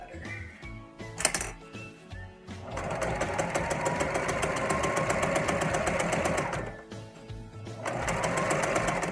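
Sewing machine quilting a fabric placemat with orange thread: a few short stitching spurts, then a long steady run, a pause and another run, loud, close and rhythmic.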